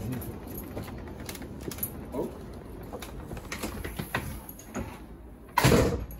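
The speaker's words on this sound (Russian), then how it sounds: "Если ты сможешь дверь открыть." An apartment door in New York being unlocked and opened, with scattered clicks and rattles of the lock and handle, then a louder bump as the door swings open.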